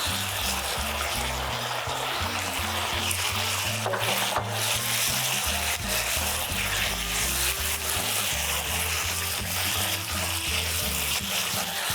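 Onion and carrot stir-fried in a pan with shiitake mushrooms give off a loud, steady sizzle lasting the whole time, close up, with low rhythmic tones running underneath.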